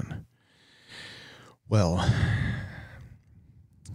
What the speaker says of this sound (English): Oh, big yawn, big yawn.